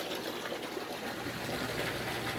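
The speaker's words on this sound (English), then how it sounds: "let the water just run out of the tube" Water runs steadily out of a clear plastic siphon tube, a continuous soft gushing and trickling wash that holds even from start to finish at moderate, close level.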